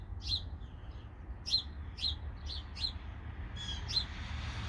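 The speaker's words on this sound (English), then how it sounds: "Look at this bird, all up in my business." A bird nearby chirps in a string of about seven short, sharp, high tweets spaced roughly half a second apart over a low background rumble, with no talking.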